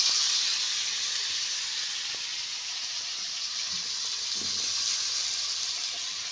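Brinjal and potato pieces fry in a pan over a wood-fired clay stove, giving a steady bright sizzle and hiss with a few faint clinks, close and continuous, with no voices.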